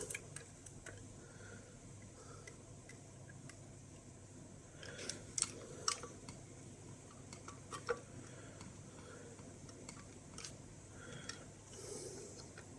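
Small metallic clicks and faint scraping come from parts being unscrewed on an SRP-88 Geiger counter dosimeter, scattered irregularly and close up over a quiet background.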